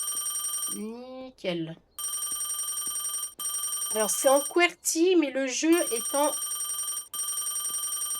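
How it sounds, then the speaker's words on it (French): An in-game telephone in Parking Garage Simulator rings with repeated electronic trilling bursts and short gaps between them, while someone talks over the ringing. "Il est où le téléphone? C'est ça le téléphone?"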